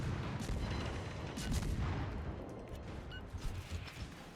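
Main battery guns of a ship firing in the video game World of Warships, heavy booming salvos under a steady rumbling background, moderately loud and without talk.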